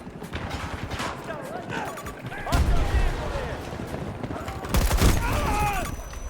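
Gunfire in a video game battle after a thrown grenade, with loud bursts of shots and heavy blasts over a busy, clattering backdrop while voices talk throughout.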